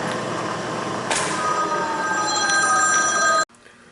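A telephone rings in a workshop, a steady trilling bell tone holding for several seconds before cutting off abruptly, leaving a quiet room hum.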